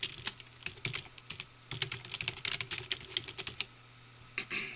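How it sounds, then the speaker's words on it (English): Someone types quickly on a computer keyboard, making close, crisp clicks in irregular bursts with short pauses, alone with no talk. "I'm having problems typing today"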